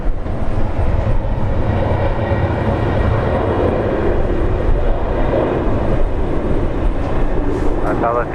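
An airliner rolls for takeoff at Brisbane Airport, a loud, broad, sustained roar of jet engines heard from a distance with a steady, unbroken rumble.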